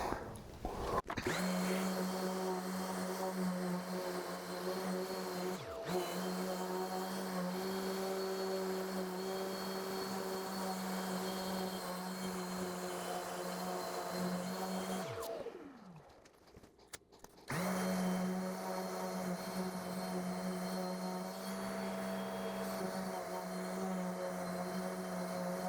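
A power sander strips paint, running as a steady, close drone that cuts out briefly partway through and then starts again.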